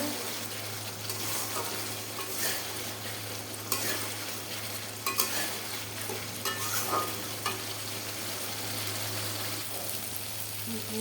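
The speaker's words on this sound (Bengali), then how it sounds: "আস্তে আস্তে সুন্দর করে মশলাটা কষিয়ে নেব।" Spice paste sautéing and being stirred in a pan, a steady soft sizzle with repeated scraping strokes of the spoon, close and continuous over a low constant hum, with no talking.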